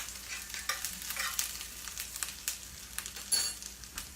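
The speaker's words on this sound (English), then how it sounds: "Just going to kind of stir this up a little bit." Liver and vegetables sizzle softly in a frying pan while being stirred, with scraping and clinking of a utensil against the pan, irregular bursts of spatter, and one sharper knock near the end.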